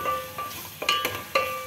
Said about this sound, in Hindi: ये प्याज इसके अंदर अच्छा मिक्स करेंगे